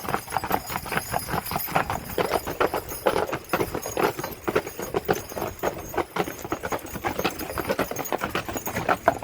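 Hooves of a four-horse hitch at a farm park clop in a dense, overlapping walking rhythm, close and steady, with faint harness jingle and no talk over it.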